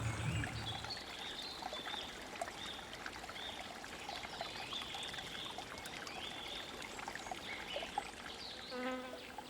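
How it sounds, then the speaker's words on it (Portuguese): A swarm of flies buzzing along a rural walking trail in Gerês, Portugal: faint, continuous whining buzzes drifting in and out over a soft, steady outdoor hiss. "Não sei se está a dar para entender a quantidade surreal de moscas que tem aqui."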